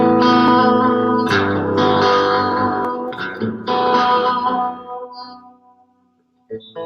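An Epiphone electric guitar played through distortion, sustained chords ringing with effects and reverb, a few breaks and choppy strums, then a fade to near silence before a short final stab.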